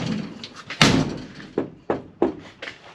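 A 1957 Chevy car door lined with sound-deadening mat is struck by hand, giving one heavy thud followed by several shorter dull knocks, close and fairly loud.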